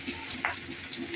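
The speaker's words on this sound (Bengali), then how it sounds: "টমেটো আর পেঁয়াজটা আমি দিয়ে দিলাম, ভাজা ভাজা হবে।" Chopped tomato and onion frying in white oil in a wok, a steady close hiss of sizzling with a brief stir-scrape partway through.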